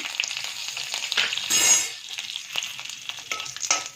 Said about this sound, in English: To this, I'm going to add jeera, let it splatter, and some curry leaves.